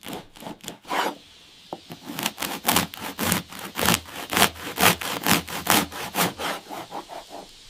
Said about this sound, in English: The sound is a confirmation of the crust's incredible structure, giving way to the soft interior.